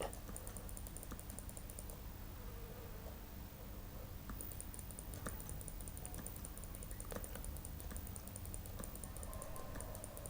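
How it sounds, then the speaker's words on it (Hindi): Alt key presses and mouse clicks on a computer keyboard and mouse during Photoshop clone stamp work, heard as faint scattered clicks over a steady background hiss with a high whine that drops out midway. "मैं यहाँ पे आल्ट प्रेस करके क्लिक करता जा रहा हूँ।"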